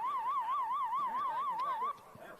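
A warbling electronic siren sounds at a boys' varsity high school soccer match, rising and falling rapidly for about two seconds, loud and close, then cutting off abruptly.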